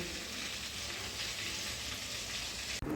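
Pointed gourd and okra fry in hot oil, a steady, soft sizzle that holds evenly with no break, then a sudden brief click near the end.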